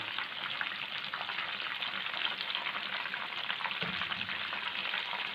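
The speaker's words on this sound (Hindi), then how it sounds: "ये इधर फ्राई हो रही है।" Fish fillets deep frying in hot oil give a loud, steady, dense sizzle that carries on unbroken, with a faint spoon scrape partway through.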